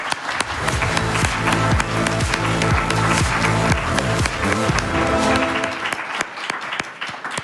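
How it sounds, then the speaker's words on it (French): Studio audience applause on a television set, loud and sustained with rhythmic clapping over background music, tapering off near the end. "Un tonnerre d'applaudissements pour Sophie Binet et Marie-Lise Léon."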